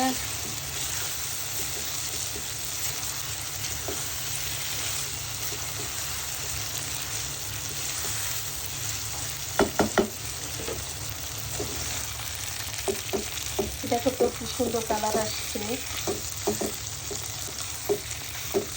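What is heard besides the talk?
beef frying in a pan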